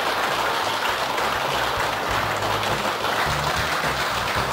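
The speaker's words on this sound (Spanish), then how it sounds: "El aplauso para ellas." Dense, sustained applause for female dancers at a televised dance contest, a loud continuous wash of many hands clapping at once with no pauses, heard alone throughout.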